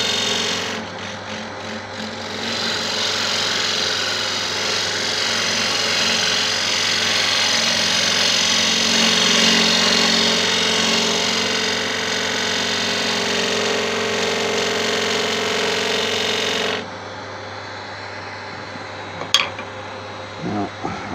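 A wood lathe turns a prototype Art Deco candlestick as a gouge cuts uphill along the piece, giving a steady, loud, close scraping whine that runs for about sixteen seconds and then stops, followed by quieter handling sounds.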